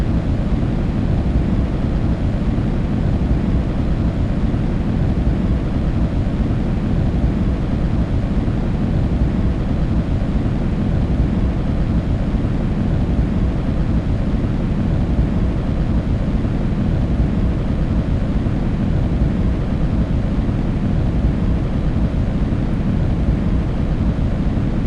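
Rocket engines roar steadily during ascent with all engines lit on the Fusion 2 stage, a constant dense low rumble with broadband hiss that holds evenly loud, without any voices, across the whole stretch.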